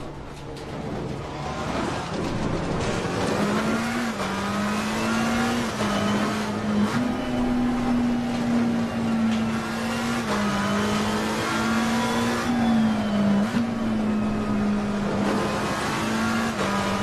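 A race car engine in a video game drones and revs steadily at high pitch at Laguna Seca, rising and dipping slightly as it holds speed on part throttle, loud and continuous.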